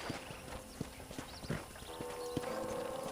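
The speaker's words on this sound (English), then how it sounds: "let's see if you can still ride a horse" Horse hooves clip-clopping on a ranch in Red Dead Redemption, a steady run of distinct hoof beats at walking pace with a brief whinny, fairly close against quiet game ambience.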